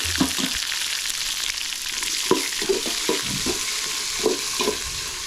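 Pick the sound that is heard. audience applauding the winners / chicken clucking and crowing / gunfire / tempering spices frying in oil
tempering spices frying in oil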